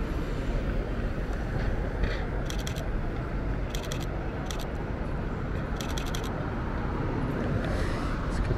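A metro train in Shenzhen rumbles past in a steady, dense roar that fills the whole stretch, with faint clicking bursts over the noise and no talking.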